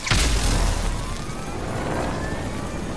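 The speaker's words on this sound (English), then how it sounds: "This plane." An aircraft in a video game, a broad roaring engine rush that starts with a loud burst and then holds as a steady drone with faint rising tonal whines.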